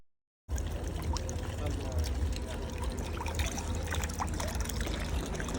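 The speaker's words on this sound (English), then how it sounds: "We're filling up our water bottle" Water pours from a tap or fountain into a water bottle on a walking tour of Rome, a steady trickling splash running continuously and fairly close, with outdoor street bustle behind it.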